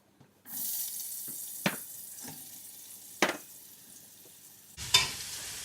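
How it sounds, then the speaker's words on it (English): Celery, carrots and onions sauté in olive oil in a hot pot, a steady close sizzle broken by a few sharp clanks of stirring, with no one talking. "So you want to stir those occasionally and let them saute in that pot for around, 7 or 8 minutes"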